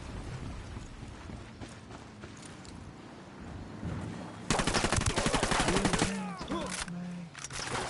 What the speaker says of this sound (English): it takes me so many fucking bullets to kill them